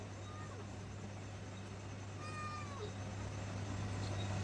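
A cat meows faintly a few times over a steady low hum in a home kitchen where spiced milk is being boiled, with no voices.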